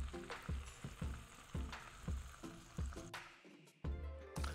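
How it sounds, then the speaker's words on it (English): Hot oil sizzles and crackles steadily as meat fries, with a series of rhythmic thumps and clatters from a pan or utensil running through it. "Oh yeah, that's the sizzle."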